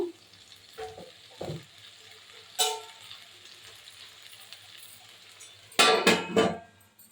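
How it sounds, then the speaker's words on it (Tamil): Onion, tomato and ginger garlic paste sauté in a pan for Tamil-style prawn gravy, a quiet steady sizzle broken by a few sharp bursts of stirring and utensil scraping, the loudest cluster near the end. "வெங்காயம் தக்காளி நல்லா வதங்கட்டும்"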